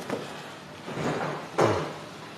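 Bikes come out of storage in a bike shop, with a few knocking and clattering thuds like doors or cabinets opening and closing, one sharper bang near the end, all fairly close.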